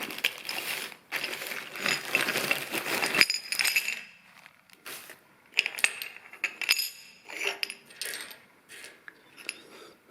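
Broken pieces of a cast aluminium engine sump rattle and clink as they are tipped and sorted from a bag, in bursts of close metallic jingling separated by brief pauses, with no talk.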